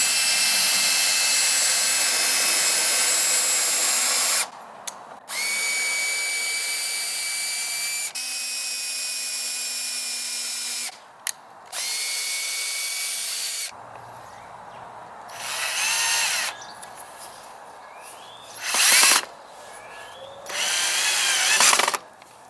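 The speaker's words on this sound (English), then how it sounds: "first drilling a guide hole so that it doesn't split the wood" A power drill whirs in several bursts while drilling a guide hole in wood, steady high-pitched runs of a few seconds each with short pauses between, close and loud.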